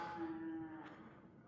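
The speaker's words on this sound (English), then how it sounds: "You can hear cattle in the background." A single cow moos once, a drawn-out low call heard at a distance in open countryside near old mining ruins at Conconully State Park, Washington, over faint outdoor ambience with no talk.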